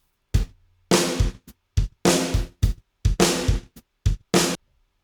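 Punchy drum hits in a short pattern processed with an expander, with clean cutoffs and dead silence between, each decay abruptly gated off.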